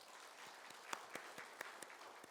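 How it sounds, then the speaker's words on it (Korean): Faint, distant applause from a church congregation at a Sunday service welcoming new members, with a few sharper individual claps standing out over a soft, continuous patter. "하나님께 영광의 박수를 다 같이 올리겠습니다."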